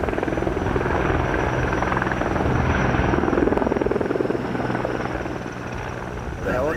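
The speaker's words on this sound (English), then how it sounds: "The helicopters reach those areas that we can't get safely." The rotor chop of a firefighting helicopter over Los Angeles wildfires pulses steadily, loud and close, building toward the middle and then easing slightly. Talk is faintly audible underneath.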